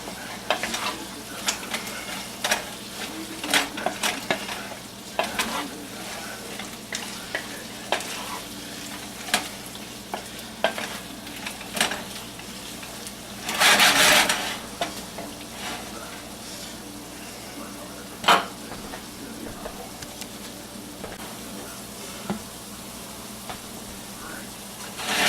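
Diced potatoes frying in a pan for a potato, onion, egg, sausage and cheese breakfast, with a steady low sizzle and repeated scraping stirs, plus one louder clatter midway.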